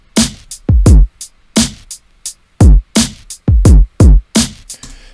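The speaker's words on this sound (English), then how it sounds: "So I quickly went ahead and just created a quick boom bap style beat using some drum sounds" Punchy boom bap drum beat built from picked drum samples: deep kicks and cracking snares hit in a loose, head-nodding pattern with ticking hi-hats, loud and dry with no voices.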